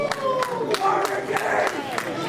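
A wrestling crowd at a pro wrestling championship match cheering for Sammy Guevara, with rhythmic clapping or stomping beats about three times a second under a steady roar of voices.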